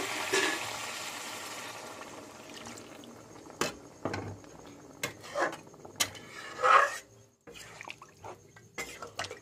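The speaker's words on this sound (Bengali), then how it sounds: "জল দিয়ে দেবো।" Water poured into a pot of browned, sautéed meat, a soft splashing pour followed by quieter sizzling and clinks from the pan, fairly faint and close.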